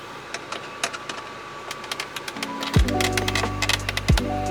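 Screws are driven into the instrument cluster of a 1998-2002 Honda Accord, with scattered sharp clicks and ratcheting taps, then two louder buzzing whirs from a driver near the end, all close by.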